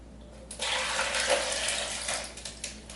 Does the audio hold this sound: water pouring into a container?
yes